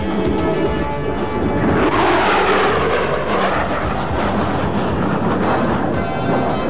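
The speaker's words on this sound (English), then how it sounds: "prepares to demonstrate the low-altitude, high-speed capability of the F-16 Fighting Falcon" An F-16 Fighting Falcon jet screams past low at over 600 miles per hour in an air show demonstration, a loud, continuous roar whose sweeping pitch shifts as it passes show center.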